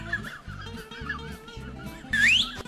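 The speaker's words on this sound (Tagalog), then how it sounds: "May manok." Chicken calls in a wavering, warbling run, close and fairly loud, ending in one sharp rising squawk near the end; no talking.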